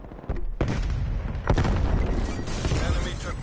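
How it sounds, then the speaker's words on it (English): Flashbang grenade blast in Call of Duty Cold War: a sudden loud burst followed by a second sharp bang and a long, dense ringing roar that stays loud to the end, with game announcer voice mixed in. "Flashbang."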